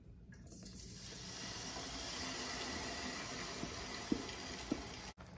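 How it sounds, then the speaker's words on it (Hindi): Chopped spinach, chopped ginger and a Knorr stock cube frying in hot oil for Pakistani degi palak gosht give a steady, even sizzle that starts after half a second and holds to the end, with no talking. "अब इसमें मैं पालक कटा हुआ अदरक और जो कनौर क्यूब था मेरे पास वो मैं डाल के इसको फ्राई करूंगी।"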